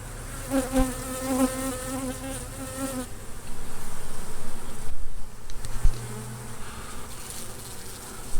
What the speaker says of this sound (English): Scatter some bees, not people.